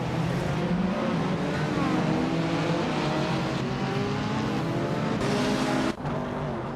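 In a racing video game, engines drone loudly and continuously, including a 1970 Ford Mustang Boss, with pitch shifting as the cars accelerate, occasional tire squeal, and a sharp cut near the end.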